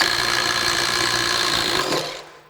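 DeWalt DCF850 compact impact driver spinning a 7/8 inch auger bit into wood, a loud steady whirring grind that runs for about two seconds before winding down.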